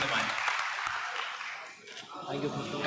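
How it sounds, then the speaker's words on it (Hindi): An audience at a National Handloom Day celebration claps for guests and weavers, a moderate crowd applause that fades midway and then picks up again near the end. "एक बार सब लोग बहुत जोर से तालियां बजा दें हमारे मेहमान लोगों के लिए और हमारे बुनकर लोगों के लिए"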